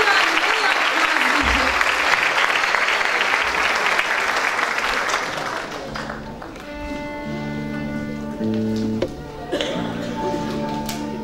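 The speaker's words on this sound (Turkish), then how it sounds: "Alkışlarınızla Ayşegül" A Turkish classical music concert audience applauds heavily for about six seconds, then the clapping thins as instrumental music begins and carries on alone.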